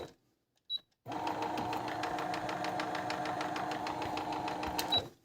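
A Brother RS260 domestic sewing machine with faults runs steadily for about four seconds, a quiet, even mechanical whirr with a fast rhythmic needle clatter, after near silence and a small click at the start.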